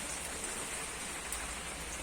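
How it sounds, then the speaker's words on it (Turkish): Soft, steady patter of light rain falling in Istanbul, even and continuous, with no voices. "şimdi yağmur bakın dindi yine yağıyor kamerada gözükmüyor kısık kısık yağıyor"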